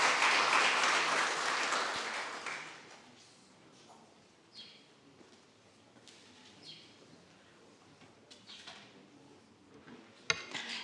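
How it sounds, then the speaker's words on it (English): An audience at a peace, security and justice symposium in Musanze, Rwanda breaks into a loud round of applause that fades after a couple of seconds, leaving a quiet room with scattered faint claps and one sharp knock near the end. "A round of applause."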